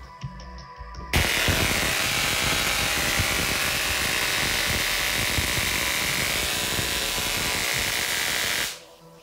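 A high-voltage electrostatic generator machine drawing about 100 watts and putting out over 100,000 volts starts abruptly, then gives a loud, steady, dense buzzing hiss that runs nearly the whole time before cutting off at the end. No voices are heard.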